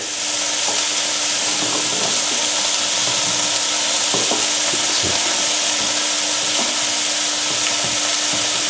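Leeks frying in a pan give a steady, loud sizzle that runs the whole time, close up, with scattered soft knocks and pops from stirring and no one talking.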